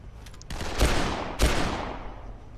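Assault rifle gunfire in the Dead Island video game, Ryder White campaign, comes as two heavy, close bursts about half a second apart, each trailing off into a rumbling decay.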